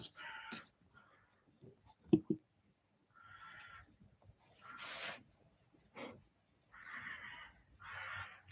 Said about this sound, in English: I don't know if you can hear them birds, like, but they go off constantly